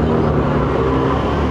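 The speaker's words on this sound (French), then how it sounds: "On continue un petit peu le car spotting avec une Portofino. Ferrari Portofino" A Ferrari Portofino passes on a street, its engine and road noise forming a steady, fairly loud drone that fills the short moment without a clear rise or fall.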